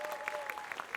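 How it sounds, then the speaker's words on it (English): Audience at a city awards ceremony applauding, a brief, fairly faint patter of scattered hand claps heard from a distance with no one speaking over it. "Give them a round of applause."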